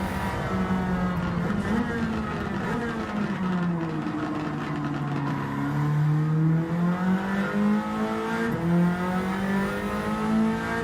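A race car engine in Gran Turismo 7 during an online daily race, droning steadily with rising and falling pitch as it accelerates and shifts, loud and continuous with no other sounds.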